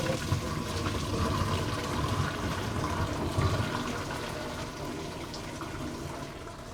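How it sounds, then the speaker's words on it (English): Boiled noodles drain through a strainer fitted over the pan, a steady pouring rush of water close to the microphone, splashing continuously with no voices. "It just goes right over your pan, and then you just hold the handles and drain your noodles."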